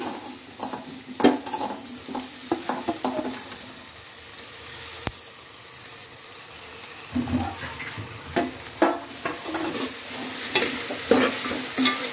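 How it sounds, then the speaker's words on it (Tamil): Chopped tomatoes frying in a pan for coconut milk rice, with a soft steady sizzle under repeated scraping and clinking stirs of a spoon against the pan, close and fairly quiet, no talking. "ஸோ தக்காளி வதங்கிறதுக்கு சால்ட் ஆட் பண்ணிக்கோங்க"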